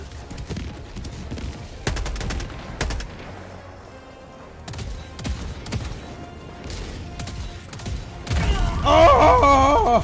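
Heavy, thudding autocannon shots in Helldivers 2 fire in irregular bursts amid game battle noise, growing louder and denser toward the end.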